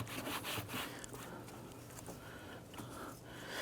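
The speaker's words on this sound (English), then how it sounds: "Wipe down any of that residual coolant." A rag rubs and scrubs over a 2.0L Hyundai Elantra engine to wipe off residual coolant, a close, soft, repeated friction sound with no talking.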